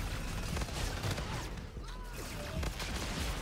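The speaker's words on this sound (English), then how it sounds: "Why do these kids insist on bombarding this place with grenades?" Grenade explosions in a first-person shooter game form a dense, continuous wall of rumbling blasts and gunfire, loud and unbroken throughout, with no clear gaps between bursts.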